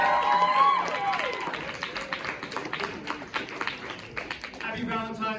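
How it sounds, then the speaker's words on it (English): Clapping from an outdoor stand-up comedy crowd in a park is scattered and moderate, and a voice speaks over it, briefly at the start and again near the end. "Give us a round of applause for Wyatt Mency!"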